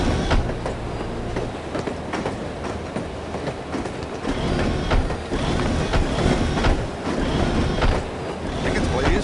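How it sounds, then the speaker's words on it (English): Moving train in the video game No One Lives Forever, a loud continuous rumble with rhythmic clacking of wheels over rail joints and occasional metallic squeals, steady and close throughout. "I love riding the train"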